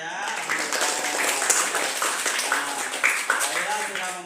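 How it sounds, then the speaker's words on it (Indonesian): Classroom applause for a student named Laila, light clapping from a small group of children, steady and fairly close, with voices chattering over it. "Beri tepuk tangan untuk Laila ya"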